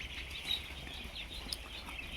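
Around a thousand duck ducklings crowd a brooding pen. Their high chirps blend into a faint, continuous peeping chorus with no talk.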